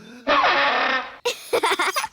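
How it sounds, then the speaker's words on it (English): Silly cartoon elf band instrument, the spal throttle, gives a sustained buzzy honk for about a second, then a series of short wobbling bursts, loud and alone. "That's the spal throttle."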